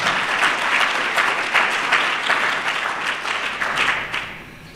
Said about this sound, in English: we should give them a round of applause for doing such a good job